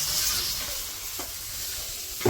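Eggplant slices fry in hot oil in a village-style kitchen, giving off a steady, moderate sizzle with a few faint stirring or scraping touches and a brief knock at the end.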